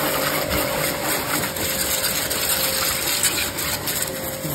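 Agaro car pressure washer blasting a steady, forceful jet of water, a continuous loud hiss and gush with the pump's hum running beneath, heard alone without talk.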